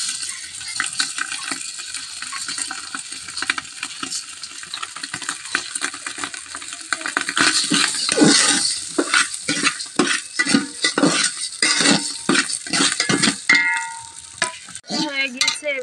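Rice frying in Dalda in a cooking pot for pulao, stirred steadily with a utensil: continuous close sizzling with repeated scraping strokes that grow busier and louder midway, with no talking.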